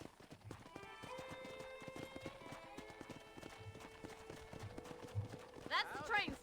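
Horse hooves clip-clop at a steady gait in the Red Dead Redemption video game, mid-distance beneath a continuous musical score and game ambience, with a brief whinny-like flourish near the end.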